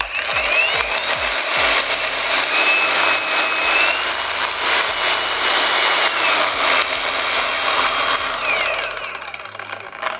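An Assur cordless drill whirs loudly and continuously up close, its motor buzzing with rattling, gear-like pulses, briefly spinning down near the end.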